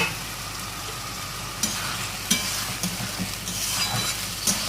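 Homemade frozen pieces frying in oily spiced masala, a steady dense sizzle with occasional stirring scrapes and clinks, close and continuous.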